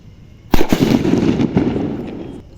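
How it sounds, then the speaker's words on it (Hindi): A Commando sutli bomb firecracker goes off with one sharp, loud outdoor blast, followed by a rumbling, crackling tail that fades over about two seconds. "अब जलाते हैं इस कमांडे वाले सुतली बम को।"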